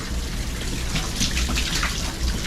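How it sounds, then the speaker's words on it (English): A couple of gallons of fresh water dumped into both RV waste tanks, a steady close splashing, gushing flow with no talk. "I'm gonna dump a couple of gallons of fresh water into both tanks, do a little baby rinse"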